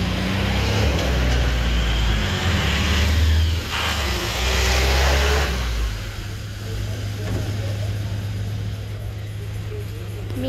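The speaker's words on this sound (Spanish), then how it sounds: "aquí están los carros, ya van a ir a viajar hacia Cruzchich" Cars idling and revving at a parking lot in Joyabaj, Quiché, where vehicles wait to leave for Cruzchich, a steady low engine rumble throughout with a louder rev in the first six seconds and faint voices in the background.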